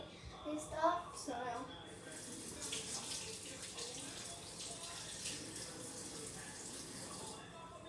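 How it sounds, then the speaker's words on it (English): Tap water running into a sink for hand washing, a soft steady hiss with splashing, fairly quiet, with a voice briefly at the start. "I'm going to go wash my hands."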